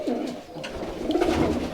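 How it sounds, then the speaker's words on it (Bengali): A female local Giribaj pigeon coos close by in a loft, a low, continuous rolling burble that swells slightly toward the end. "এই হচ্ছে বাজির মেশিনে কবুতরটা একটা মাদি কবুতর আর সে লোকাল গিরিবাস"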